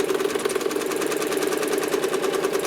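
A home sewing machine stitches a quilt along a curved ruler with a fast, even mechanical hum and rapid needle chatter, running steadily and close with no break.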